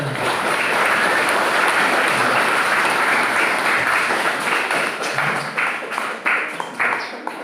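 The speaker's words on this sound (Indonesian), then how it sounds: "Mari kita berikan tepuk tangan untuk mereka" A Catholic church congregation applauds newly married couples at a church anniversary service, a loud, full roar of many hands that thins and breaks into scattered claps toward the end.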